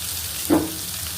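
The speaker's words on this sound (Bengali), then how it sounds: "এখন এটাকে আমি বাদামি কালার ভেজে উঠিয়ে নেব" Onions frying in a pan with a pinch of turmeric and salt, a soft, steady sizzle with one brief louder burst midway, close and alone without speech.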